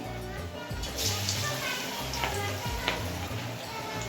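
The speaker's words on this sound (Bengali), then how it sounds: "এবার হচ্ছে ডুমো ডুমো করে পকোড়াগুলোকে ভেজে নেব।" Cabbage pakoras dropped into hot oil, a bright continuous sizzle with sharp bubbling bursts and a few spoon scrapes, close by, while a voice talks faintly underneath.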